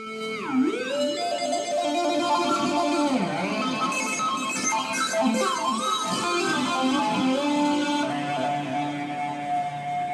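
A synthesizer patch plays swooping, bending tones in a dense, warbling wash of sound that stays steady and fairly loud throughout.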